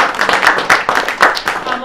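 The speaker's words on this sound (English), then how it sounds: "If you give her a round of applause." Clapping from an audience honouring Joan, who runs America Votes, heard as a short burst of close, fairly loud claps that come in uneven rhythmic pulses, mixed with voices.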